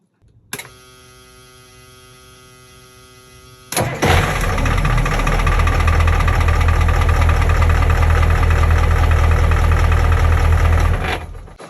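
A boat engine cranks with a loud whir, catches, and settles into a steady, loud idle that runs for several seconds before cutting off.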